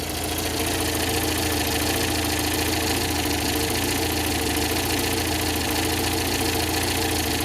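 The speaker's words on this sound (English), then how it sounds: "Just runs so lovely, this engine, it really does." A 1971 Volvo P1800 E coupe's 2.0 engine idles close up through a stainless steel exhaust, a steady, even mechanical hum with a faint regular tick and no speech over it.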